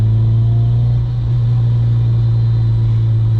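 A 350-horsepower eighth-generation Honda Civic Si drones steadily while being driven, a loud, constant low engine hum and road rumble heard from inside the cabin, with no talk over it.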